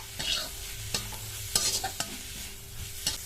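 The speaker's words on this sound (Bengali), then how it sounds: "এটা মিনিট 2-3 সময় নিয়ে একটু ভেজে নিয়েছি সব কিছু মশলা দিয়ে।" Spiced vegetable momo filling being stir-fried in a pan, with a spatula scraping and stirring in irregular strokes over a steady soft sizzle, close and fairly quiet.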